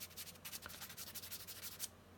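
Sanding sponge rubbing a small 1/144 High Grade model kit part, a quiet rapid series of short scratchy strokes close up, with no talking.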